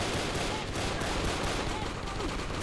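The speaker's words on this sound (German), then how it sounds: "Da wird auch geschossen." Dense, rapid gunfire crackles continuously in the video game Brick Force, sounding like automatic weapons, loud and noisy throughout.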